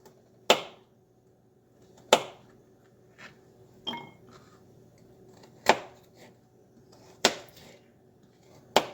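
Knife chopping carrots on a cutting board, five or six sharp, separate thuds spaced about a second or more apart, close and fairly loud, with faint kitchen clatter between strokes.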